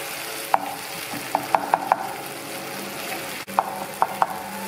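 Omena fish and tomato being stirred in a pan over a soft, steady sizzle, with a series of sharp scraping clicks from the utensil against the pan coming in small irregular clusters, close and clear.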